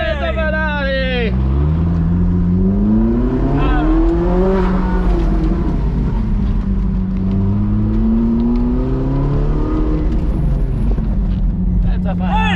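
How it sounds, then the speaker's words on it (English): Ferrari sports car, one of several supercars being raced, its engine revving loudly and close with long rising and falling sweeps, while voices shout at the start. "It's a Ferrari! It's a Ferrari!"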